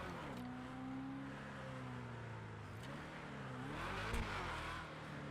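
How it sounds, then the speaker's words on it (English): An upgraded Vapid Hustler car engine in GTA Online revs steadily, its tone rising and falling through several throttle changes, with a brief sharper burst near the end and no voices. "The engine also sounds different since we upgraded it."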